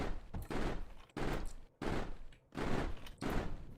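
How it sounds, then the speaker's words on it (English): Sustained bursts of automated turret gunfire in GTA V, four dense rattling volleys separated by short gaps, loud and close with no talking over them. "my turrets are just shooting themselves and each other"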